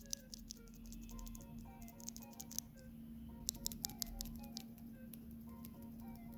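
Gateron White mechanical keyboard switches being typed on, a steady patter of light, fairly quiet clicks and taps over a constant low hum, with a few sharper keystrokes standing out.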